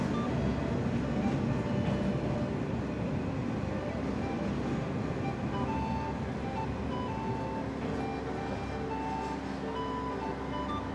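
A KiHa 47 local diesel train pulls into Hamasaka Station, a steady low rumble of engine and wheels on rail heard from inside the carriage, with faint background voices.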